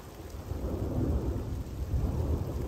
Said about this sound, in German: So, wann kommt der Donner jetzt hier oder was?